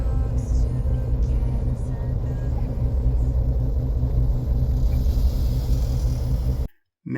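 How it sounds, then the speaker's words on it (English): Steady low road traffic rumble heard from inside a car driving home, a continuous engine and tyre drone with passing vehicles, ending in a brief dropout. "And we join the traffic to go home."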